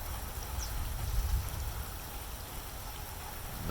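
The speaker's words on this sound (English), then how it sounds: "Well, it's still raining. The creeks, you can see the creeks right up over the banks." Steady rain with a creek running high and flooded over its banks, a continuous broadband rush and patter at moderate level with no voices.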